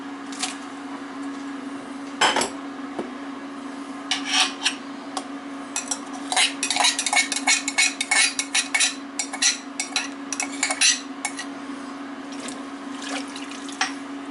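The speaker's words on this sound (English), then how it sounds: "And just stir it all up and start cooking it." A spoon scraping and clinking in a pot of pea soup with ham and hominy corn, in irregular bursts of rubbing and knocking over a steady low hum, with no speech.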